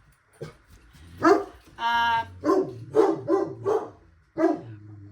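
Several dogs bark repeatedly and close by, a rapid series of sharp barks with one drawn-out yowl among them.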